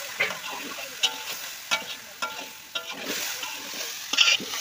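Chicken meat frying with onion, ginger and garlic, a continuous close sizzle punctuated by regular scraping stirs of the spatula and a few spattering pops, no voices present.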